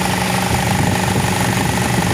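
A car engine with a radiator fan stuck always on, still cold and hard to start with the check engine light lit, runs as a steady, loud, unbroken drone with no pauses.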